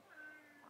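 A single soft cat meow, brief and faint, heard close by in a quiet room.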